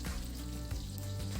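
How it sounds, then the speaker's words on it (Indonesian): Scad fish fries in a pan over high heat, giving a steady, close, continuous sizzle and crackle with no talking. "Pokoknya harus hati-hati kalau goreng ikan"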